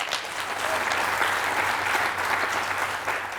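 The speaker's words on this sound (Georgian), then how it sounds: "აპლოდისმენტები" A studio audience at a Georgian book quiz show claps in sustained, dense applause that holds steady for a few seconds without any speech.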